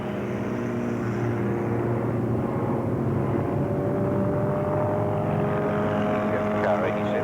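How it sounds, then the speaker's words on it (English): A small vintage TC racing car at the Historic Winton circuit drones steadily with a buzzing, harmonic-rich engine note that stays loud and even throughout, heard under a commentator's talk. "Jeff car is always nicely presented and always sounds great, that little car"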